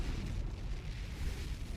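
Artillery barrage shells exploding in Company of Heroes, a low, continuous rumbling roar of blasts that stays dense and steady throughout, with no talk over it.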